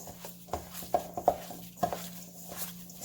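Minced pork being mixed by hand with Laab seasoning in a bowl, heard as soft, irregular wet squishes and taps over a quiet background.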